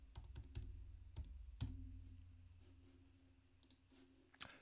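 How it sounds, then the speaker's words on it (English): Faint, close keystrokes on a computer keyboard, a quick burst of several clicks followed by scattered single taps and a final louder click, with no talk. "Let me type extreme."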